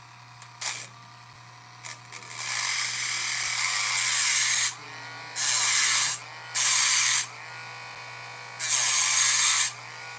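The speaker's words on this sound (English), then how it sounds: "The Dremel might be charged enough." A battery-powered Dremel rotary tool whines at high speed in bursts, running for about three seconds and then in three shorter spurts with pauses between them. It is loud and close, with a steady low hum underneath and no talking.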